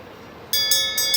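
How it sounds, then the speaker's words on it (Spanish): A medium-sized bell near a train station starts ringing after a quiet moment, a bright metallic clang repeating quickly in close, loud strokes. "La campana, mira la campana, Nacho."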